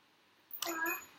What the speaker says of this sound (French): J'ai une petite cloche magique dans mon appartement.